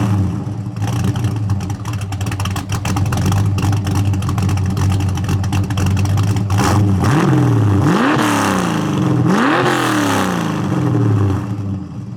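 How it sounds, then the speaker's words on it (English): Craig's cammed Fox-body car idles loudly with a lumpy, choppy rhythm, then gets blipped in several sharp revs that rise and fall back, close up and alone. "we're gonna let you hear what Craig's car sounds like here real quick"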